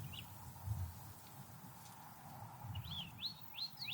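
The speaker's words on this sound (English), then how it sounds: "you can hear the traffic a half mile away, birds." Faint bird chirps and short rising tweets sound outdoors over a low, distant rumble of traffic about half a mile away.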